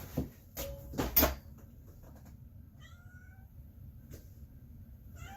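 A house cat lets out a few close meows after being bumped, with sharp knocks and rustling in the first second or so, then quieter, faint meows trailing off over a low background hum.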